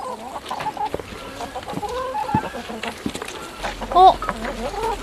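A flock of native Korean chickens clucks and squawks continuously around a farmyard in Paju, with overlapping calls at varying distances and faint voices mixed in.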